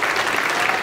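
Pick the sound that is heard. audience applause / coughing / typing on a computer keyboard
audience applause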